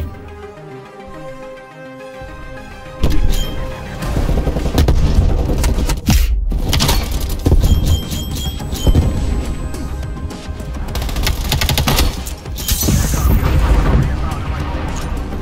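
Gunfire and explosions from the video game Call of Duty: Black Ops Cold War burst in dense, loud volleys with booming blasts and crashes, following a quieter stretch of game music at the start.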